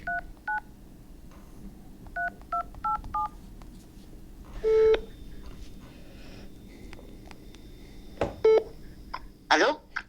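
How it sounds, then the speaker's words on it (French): A telephone number is dialed on a keypad, giving a quick series of short DTMF beeps, clear and close, with a few further tones and a brief voice later on. "Je compose son numéro."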